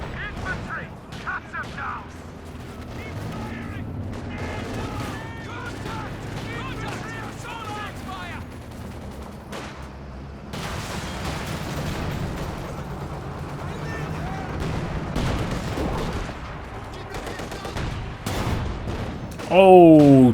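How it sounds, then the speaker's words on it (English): Video game battle with repeated grenade explosions and gunfire, thuds and bursts rumbling continuously with a louder blast at the end, under excited commentary. "He's then free to spam those grenades."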